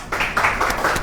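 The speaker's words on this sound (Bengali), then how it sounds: "হাততালি।" Audience applause at a motorbike showroom event, a short burst of several hands clapping in a quick uneven patter, moderately close, lasting about a second.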